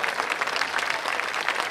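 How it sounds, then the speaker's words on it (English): Audience applauding at the Penang World Music Festival concert, a dense burst of many hands clapping, loud and close, filling the whole brief moment. "once again, a warm round of applause"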